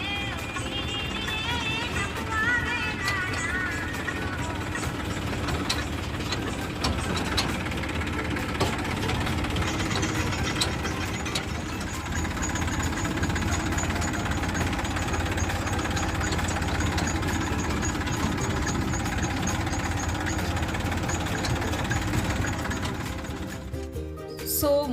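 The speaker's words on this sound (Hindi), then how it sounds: "बच्चे जो है वो ट्रैक्टर में बैठ के अब हम लोग रिजॉर्ट की तरफ जा रहे हैं" A tractor engine runs steadily throughout a ride toward a resort carrying schoolchildren, a continuous loud low rumble with rattling, under background chatter.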